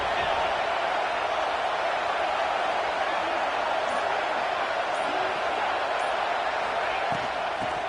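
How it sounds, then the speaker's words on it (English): Home crowd roaring steadily in an NCAA 25 college football video game, a dense, continuous wash of stadium noise at constant loudness throughout, with a broadcast commentator's voice heard faintly beneath it. "this home crowd is fired up and ready to make a difference today"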